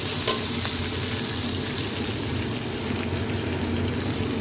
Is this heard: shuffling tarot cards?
no